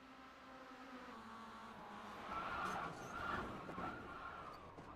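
A race car in the iRacing sim game snaps loose and crashes, heard as a steady engine drone with a rising skid and tire squeal around the middle, faint and without talk.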